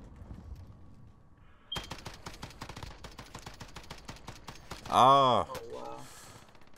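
Warzone video game combat with sniper fire, where a sudden sharp report opens a long run of rapid, evenly spaced shots and clicks at moderate loudness, interrupted by a startled exclamation from a player midway.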